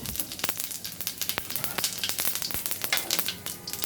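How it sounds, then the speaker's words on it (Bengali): Cumin seeds tempering in hot oil that has just fried fish, a steady crackling sizzle with dense little pops, close and moderately loud, with no talking. "দেখো তেলে দিলাম জিরা ফোড়ন"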